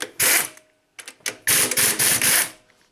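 A ratchet wrench tightens transmission bolts on a Nissan Rogue during a transmission installation, giving several close bursts of rapid clicking separated by short pauses.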